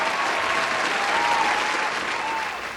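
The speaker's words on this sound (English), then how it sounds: "Can we get a round of applause" A graduation ceremony audience claps steadily for those who kept the schools running, a dense, sustained wash of applause with no break, easing off slightly at the end.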